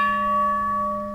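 A small bell hanging on a Japanese lantern rings with a single sustained, clear metallic tone that slowly fades, close and alone with no voices.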